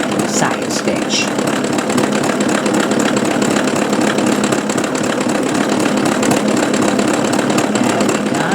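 An embroidery sewing machine runs steadily, stitching a satin stitch back and forth on a machine-embroidered tile, giving an unbroken, fairly loud mechanical whirring buzz with no pauses.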